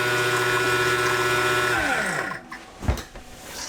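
A sailboat's bilge pump whirs loudly and steadily up close, then winds down and falls silent, ending with a short gurgle and splash of water.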